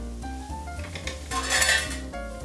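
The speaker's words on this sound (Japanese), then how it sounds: "軽く炒め合わせる" Chopped mushrooms and chestnuts stir-fried in a pan with garlic and onion for a chestnut risotto, a close run of metal utensil scrapes and clinks against the pan, busiest midway through, with no voices.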